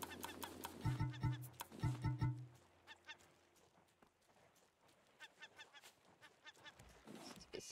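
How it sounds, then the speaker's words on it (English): Seagull calls in the Raft survival game, a few short honking cries in two quick bursts near the start, then quieter cries and clicks over a murmur of ambience later on. "Seagull."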